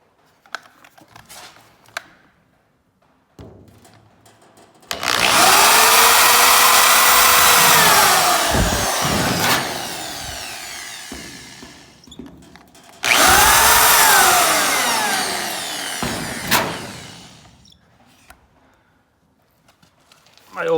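A center drill bores into metal in a home workshop with a loud, steady high-pitched whine, in two long passes separated by a pause, plus scattered clanks and shop noise around them.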